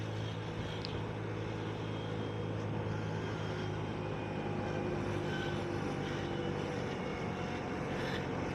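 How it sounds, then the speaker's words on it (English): Direct Bikes db50qt-11 four-stroke 50cc scooter engine running while riding, a steady, quiet hum with faint road and wind noise, continuous and unchanging. "But it's a lovely smooth engine."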